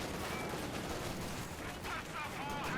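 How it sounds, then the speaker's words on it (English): Bazooka fire against a closing Panzer IV in Company of Heroes 2, a steady wash of dense gunfire and explosions throughout, loud and busy under a talking voice. "Lot of bazooka fire against the Panzer IV closing in there."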